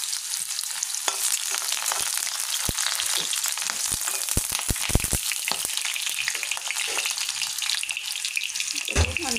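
Chopped onion hits hot oil with cumin and a bay leaf in a wok, a loud steady sizzle with scattered stirring clanks, while a voice talks faintly beneath.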